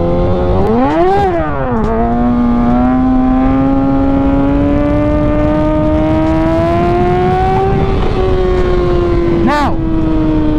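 A motorcycle engine drones loud and close during a wheelie in heavy crosswind, pitch rising and dipping early then holding a steady climb, with wind rumble throughout.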